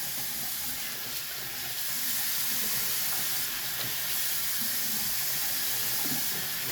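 Tap water runs steadily to rinse a razor after a wet shave, a continuous hissing flow that stays even and fairly close throughout with no talking.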